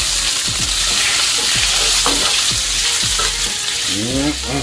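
Sausage frying in oil in a pan, a steady loud sizzle with stirring scrapes and clinks throughout, close up with no talk.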